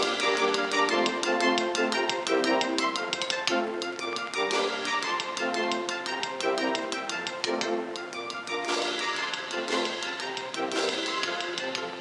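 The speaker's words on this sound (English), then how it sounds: "If I wanted to orchestrate this onto the rocks with a brass band" Ringing rocks struck in a brass band style arrangement, a dense, continuous wall of bright metallic tones with steady rhythmic accents throughout, loud and full with no talking.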